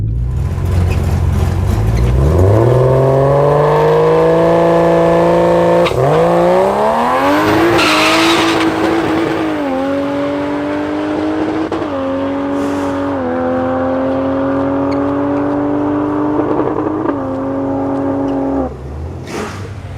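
A Barra-swapped Ford GT350 launches hard down a drag strip, with loud engine revs climbing through several gear changes and brief tire chirps, heard close and continuous for about twenty seconds.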